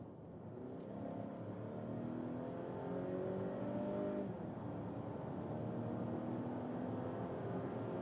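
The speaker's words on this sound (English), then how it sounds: "acceleration, we go from 50 to 110, here with the B5 mild hybrid engine" A Volvo SUV with the B5 mild hybrid engine accelerates hard from 50 to 110 km/h, a muffled in-cabin engine drone rising steadily in pitch through the gears, moderately loud and unbroken.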